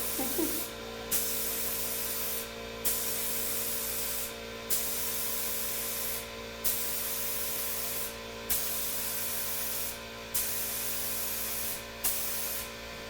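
A paint sprayer hisses steadily while spraying Dixie Belle mineral chalk paint onto furniture, a continuous close spray broken by brief pauses roughly every two seconds, over a low background hum.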